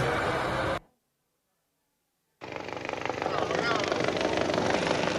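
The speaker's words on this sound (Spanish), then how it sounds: "Este es el video del momento de la incursión de 2 helicópteros militares venezolanos en territorio colombiano" Venezuelan military helicopters fly overhead as a dense, loud rotor and engine roar that cuts out briefly into silence, then returns and keeps building steadily.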